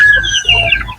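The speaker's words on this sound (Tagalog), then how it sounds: "Yung gansa na naman." A goose that has gone blind, one of several sick farm birds, gives a short run of loud, harsh honking calls close by, with no talking.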